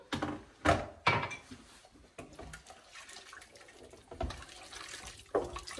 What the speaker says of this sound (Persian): دو گلاس آب اول اضافه میکنم